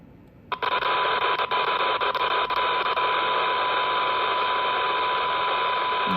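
A Baofeng UV-10R handheld radio receives a weak test signal, opening abruptly into a steady loud tone buried in hiss and static that continues unbroken to the end, with a few faint clicks early on and no voices.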